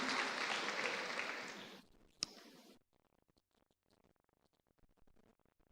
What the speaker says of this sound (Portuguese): Dê uma salva de palmas para você que já foi batizado, meu irmão.